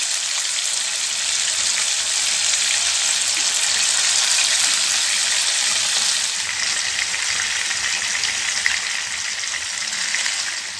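Chicken pieces for Thalassery dum biryani fry in oil with a steady, dense sizzle that stays loud and close throughout, with no talking.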